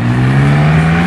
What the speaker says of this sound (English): This is my first 675 LT acceleration